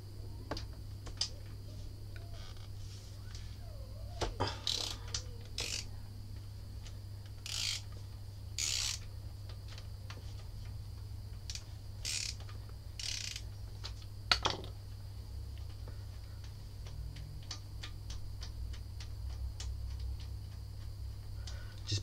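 A ratchet with a 12mm socket loosens a fairing bolt on a Yamaha R6 motorcycle, giving faint, irregular clicking bursts over a low steady hum, with no talk.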